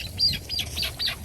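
Short, bright chirping calls from a chukar flushing during an upland bird hunt, four quick repeated notes close by.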